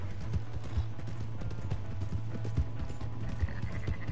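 Horse hooves clip-clop at a gallop in a PS4 video game. The quick, steady rhythm of hoofbeats runs through the whole clip at moderate loudness, with no talk over it.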